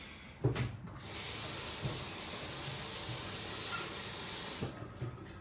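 Steady running tap water over chopped cauliflower in a kitchen sink, a continuous hissy rush lasting throughout with a few soft knocks and clunks from handling, close by and with no talk.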